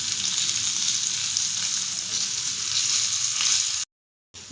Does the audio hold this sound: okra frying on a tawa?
yes